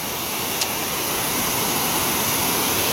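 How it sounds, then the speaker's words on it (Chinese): A forest waterfall roars as a dense, unbroken wash of rushing water, loud and steady from start to end with no talking. "这个瀑布就是刚才我们从那上面走过来的"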